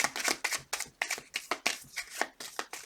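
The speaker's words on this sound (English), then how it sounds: "Two more shuffles." Tarot cards are shuffled in quick, crisp riffling bursts, a rapid rhythmic flutter repeating several times, close by with no voices.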